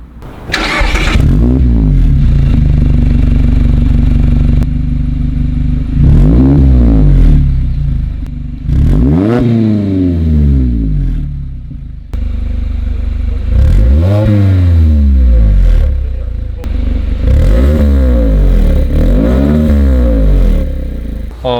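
A Mazda MX-5 30th anniversary edition with a variable exhaust revs hard again and again, each throaty roar climbing and falling back to a deep burbling idle, loud and close.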